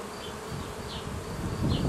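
Honeybees buzz around an opened hive of a new design during a brood check, a steady close hum with individual bees droning past louder, and no talking.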